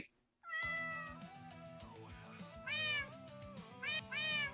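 A cat meows over and over, with several drawn-out, wavering meows close and loud, one after another and alone without talk.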